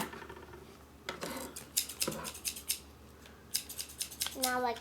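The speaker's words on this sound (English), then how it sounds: "Are you the expert at using the scissors?" A pair of scissors snips repeatedly in quick, crisp bursts close to the microphone. A faint voice can be heard in the background.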